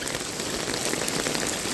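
Pouring rain on a street in Torremolinos, a dense, steady hiss of heavy rainfall close by with spattering drops on hard surfaces, continuous and without voices.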